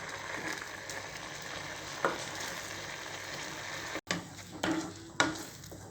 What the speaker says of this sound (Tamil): நல்லா கிளறி விட்டுட்டே இருங்க